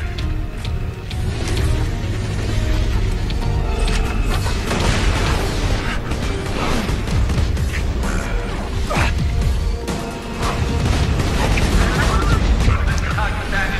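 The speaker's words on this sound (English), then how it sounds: "Eat my explosive rounds of death" Explosive sniper rifle rounds boom repeatedly in the Borderlands 2 video game, loud blasts and crashes layered over dense game effects, with a person talking throughout.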